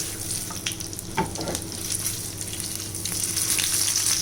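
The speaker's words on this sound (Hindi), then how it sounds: "अब इसी ऑयल में हम ये चिकन की टिक्की जो हमने बर्गर की तैयार करी है वो भी कर लेते हैं" Chicken burger patties frying in oil over low to medium flame, a soft, steady bubbling sizzle with a few faint clinks, building slightly louder toward the end, no voices.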